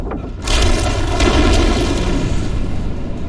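A flare gun fires in Alan Wake, a loud, close booming burst with a long, dense roaring tail that stays heavy for several seconds.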